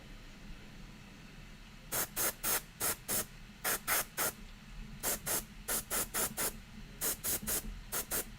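Repeated short bursts of aerosol paint spray hiss in quick groups, close and fairly loud, separated by brief pauses over a quiet background.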